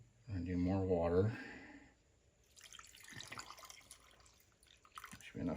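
A voice speaks briefly, then water is poured into a rock tumbler barrel of agates and grit, giving a few seconds of moderate splashing and trickling that ends with a louder gush.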